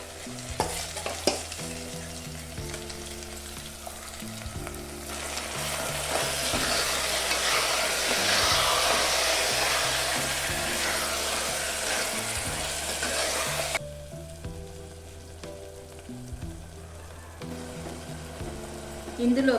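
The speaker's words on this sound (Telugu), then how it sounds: "ఉల్లిపాయలు కొద్దిగా వేగాక ఇందులోకి మ్యారినేట్ చేసుకున్న చికెన్ని వేసుకోవాలి." Marinated chicken sizzles steadily in a pan of lightly browned onions and slit green chilli, a continuous frying hiss with stirring, under soft background music for chicken haleem.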